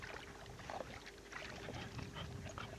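Ben the dog paddling through water outdoors, soft splashing strokes in irregular bursts, faint and close with light wind on the microphone.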